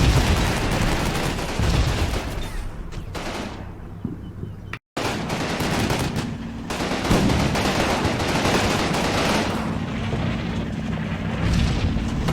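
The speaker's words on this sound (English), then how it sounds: "And the artillery is falling." Distant artillery shells fall and blast with dense, rumbling gunfire and machine-gun bursts in the Combat Mission: Rome to Victory wargame, a continuous loud barrage with one brief dropout midway.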